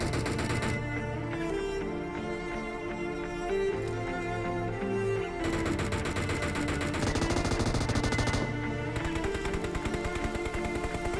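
Rapid automatic gunfire in a battle royale video game, dense continuous bursts of shots over a game soundtrack, with no voices.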